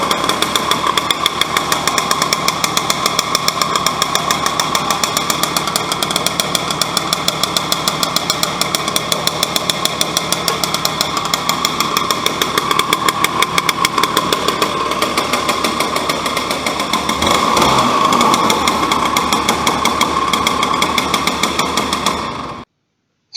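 A go-kart engine idling on a dynamometer test rig, a loud, fast, steady mechanical chatter close by that runs unbroken for over twenty seconds, then cuts off abruptly.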